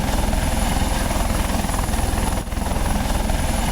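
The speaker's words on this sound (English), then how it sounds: "if you're in a helicopter" Loud helicopter engine of a Eurocopter Tiger in the video game Second Life, with a steady, rapid rotor thump that drones on without a break.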